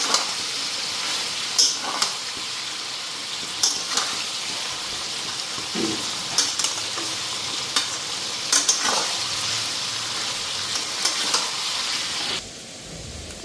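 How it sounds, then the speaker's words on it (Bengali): Onions sizzling and frying with meat in a pan, stirred steadily with a spoon, making a continuous hiss with occasional scraping knocks close by. "পেঁয়াজগুলিও মাংসের লগে ভাইজা নিই ভালো করে"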